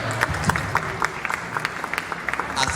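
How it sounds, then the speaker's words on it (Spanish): Audience applause for a professor introduced as the first speaker at a Spanish-language teaching conference, a short spell of scattered, fairly close hand claps from a modest crowd. "Un aplauso."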